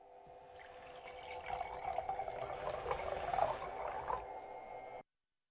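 Copper and zinc pieces are submerged in vinegar, giving a steady close fizzing, trickling liquid sound that swells slightly and then cuts off abruptly.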